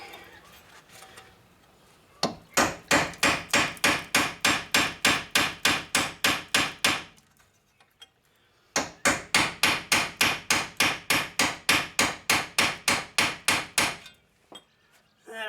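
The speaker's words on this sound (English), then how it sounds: "I'll try feeding it with a cold chisel to see if I can get it to rotate a little bit" Cold chisel struck repeatedly with a hammer against a seized wheel bearing on a second-generation Toyota Prius, two long runs of rapid, evenly spaced sharp metallic blows separated by a brief pause, loud and close.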